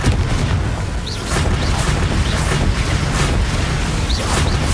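Spell explosions in Hogwarts Legacy: a dense, continuous barrage of booming bursts and pops over a heavy low rumble, loud and close throughout.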